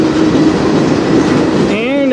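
A CN freight train with an open box car rumbles past up close, loud and steady, with wheels clacking and a brief metallic squeal near the end.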